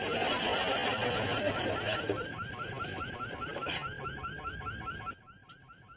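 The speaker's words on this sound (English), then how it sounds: "that sounds like my car alarm" A car alarm sounds, its warbling, rapidly cycling siren tones repeating under noisy background chatter before cutting off near the end.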